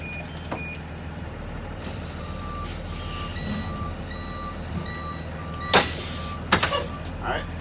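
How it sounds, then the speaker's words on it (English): A truck backing up sounds a series of regular, evenly spaced reversing beeps over a low engine rumble, with a couple of loud clunks near the end. "I'm going to back up a little because I know the vehicle rolled a little forward."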